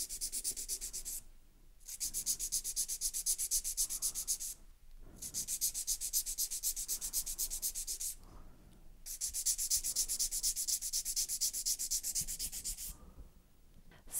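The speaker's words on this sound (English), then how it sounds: "The third step in filing is the free edge, and I will be creating an almond, so I hold my file almost all the way flat." Nail file rubbing across the free edge of long acrylic-gel hybrid nails, shaped into an almond: close, scratchy strokes in sustained bursts separated by short pauses.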